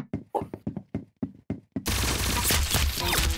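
Gunfire in the video game Arsenal: about eight sharp, evenly spaced shots ring out, then a loud, sustained roar of firing fills the rest of the moment.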